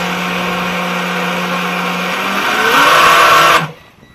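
A boat's electric motor runs on a 3S battery at half throttle, drawing 30 amps: a steady, close mechanical whine with a tonal hum that swells louder and brighter toward the end before cutting off abruptly.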